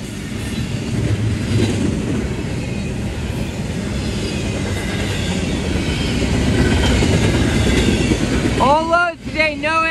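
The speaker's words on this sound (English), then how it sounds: "Not today, they're taking the train." A freight train rolls past on a railway beside I-85, a steady, loud rumble of rolling cars that fills the whole stretch, with a short tonal call near the end.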